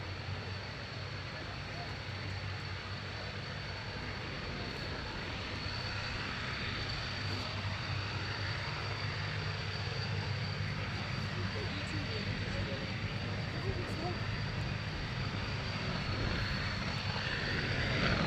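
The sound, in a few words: Daimler-Benz engine of a Messerschmitt Bf 109G warbird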